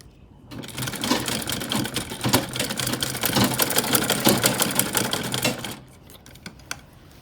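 A sewing machine stitches fabric for an Ankara bustier gown with lace, running in one fast, steady rattling burst for about five seconds before stopping, then faint handling clicks.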